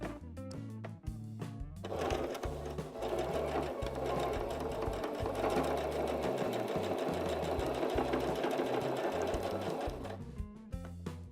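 A sewing machine with a presser foot stitches a fabric cot bumper, a close, fast, steady mechanical rattle running for several seconds between brief starts and stops.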